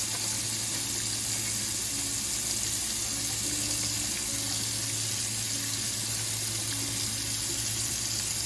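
A pet water fountain part is rinsed under a running tap in a sink, a steady close hiss and splash of water flowing continuously without pause.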